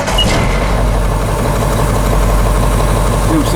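A GMC 6000 truck engine, started for the first time in years, idles loud and close with a steady, unbroken low rumble and throb.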